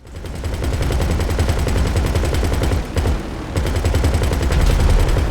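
Rapid automatic gunfire rattles almost nonstop in GTA Online during The Titan Job heist, loud and close, with a brief pause before the bursts resume.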